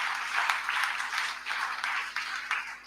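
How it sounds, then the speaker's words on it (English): An audience at a valediction for graduating batches in Bangalore claps in rhythmic waves of applause, a moderately loud crowd sound that swells and dips over a few seconds, with no speech on top. "a big round of applause to yourselves for being there"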